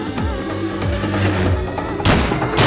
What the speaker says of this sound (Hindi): कोई ऐसा गोली चलाता है क्या?